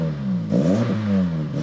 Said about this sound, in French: le son à l'échappement, il a vraiment changé. Je sais pas si comme ça tu vas l'entendre.